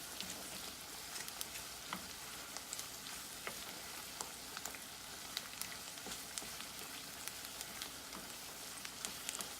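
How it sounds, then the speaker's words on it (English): Herbs for a traditional dressing sauté in a pan with a steady, soft sizzle and fine crackling pops, a continuous frying hiss with no talking over it. "We'll just saute that just for about 1 minute so the herbs can kind of release their flavors and everything"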